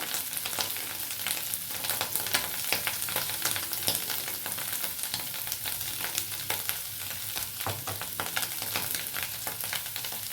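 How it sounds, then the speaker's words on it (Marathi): Potatoes sauté in oil, a continuous crackling sizzle broken by frequent scraping and stirring clicks, close and even throughout with no voices. "बटाटा पण मुख्य तेला परतून घ्यायचं"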